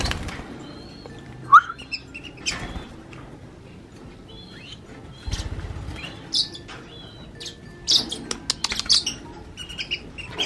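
Tame violet Ewing gold lovebird close by, giving a few short sharp chirps and bursts of wing flapping scattered across a quiet indoor background.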